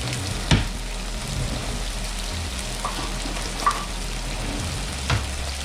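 Fresh rosemary, thyme and oregano hit a hot frying pan with fish, giving a steady oily sizzle with a few soft ticks and pops, close and fairly quiet.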